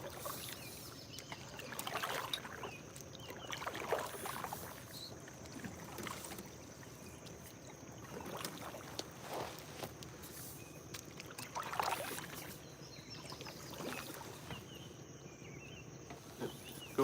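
A kayak is paddled across calm water on a carp fishing trip: faint, soft paddle dips and trickles recur every couple of seconds, with crickets and insects chirping quietly in the background.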